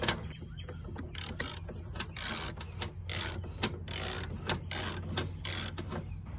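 A ratchet wrench cracks loose an oil pan bolt on a C5 Corvette with a run of sharp metallic clicking bursts in an irregular rhythm. The clicks sound close and fairly quiet, with short pauses between strokes.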